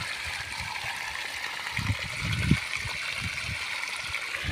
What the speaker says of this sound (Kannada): ಫುಲ್ ಫೋರ್ಸ್ನಲ್ಲಿ ಬರ್ತುಂಟು ನೀರು